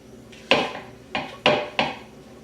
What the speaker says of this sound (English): Scrape the rest out of this pot.